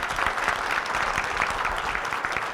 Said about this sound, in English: Let's give a great round of applause for these guys